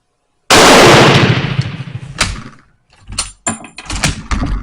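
A single loud crack from a Turkish Mauser M38 rifle firing handloaded rounds from a warm bore, with a long booming decay, followed by clicks and clatter of the bolt being worked at close range.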